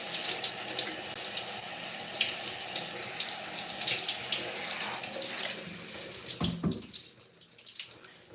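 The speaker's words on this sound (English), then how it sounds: "So each section I'm doing another rinse" Water running steadily from a tap while hair is rinsed section by section, a close, continuous splashing hiss that breaks off briefly near the end.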